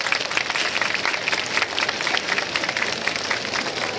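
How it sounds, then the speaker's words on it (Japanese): Steady, dense applause from a festival crowd greeting the three Miss Nebuta onto an outdoor stage at the Tohoku Kizuna Festival in Fukushima, a continuous wash of many hands clapping at even loudness throughout, with no voices on top. "皆様ぜひ拍手でお迎えください。"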